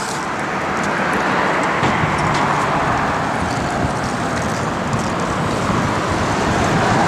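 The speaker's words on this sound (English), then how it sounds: "the wind is just blowing like crazy right now" Strong outdoor wind roars steadily around a 1973 Plymouth Barracuda, a loud, continuous broadband rush with no pauses and no voices.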